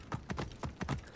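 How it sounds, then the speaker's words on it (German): Horse hooves clip-clopping at a walk inside an ancient Egyptian temple in the video game Assassin's Creed Origins, about five distinct close hoof thuds in an uneven rhythm with no talk. "Einfach mal hier mit dem Pferd in den Tempel reiten und das Pferd hier stehen lassen."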